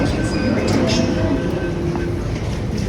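Steady low rumble and rattle of a Delhi Metro train in motion, heard from inside the carriage, with faint tonal whines above and some background chatter throughout.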